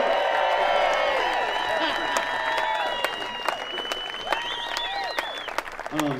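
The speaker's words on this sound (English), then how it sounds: "Give him a round of applause." Fundraiser audience cheers and applauds, with loud whoops and shouted voices over sustained clapping that thins into scattered claps toward the end.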